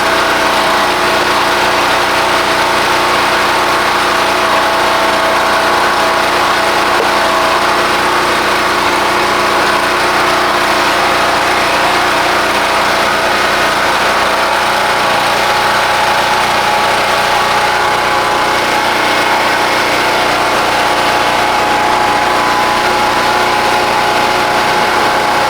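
A portable generator runs steadily on rural land, supplying power for an air conditioner, with a loud, constant engine drone and hum that continues unchanged for the whole stretch.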